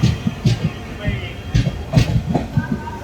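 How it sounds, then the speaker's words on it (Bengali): A Kolkata–Radhikapur Express rolls into platform 2 at Naihati station, its wheels beating a regular clickety-clack rhythm over rail joints, fairly close and loud, with faint voices mixed in. "ট্রেন আমাদের এসে পৌঁছেছে নৈহাটির 2 নম্বর প্ল্যাটফর্ম"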